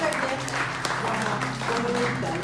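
Sustained applause from a church congregation, steady and full-bodied, with a low humming tone and a few voices underneath.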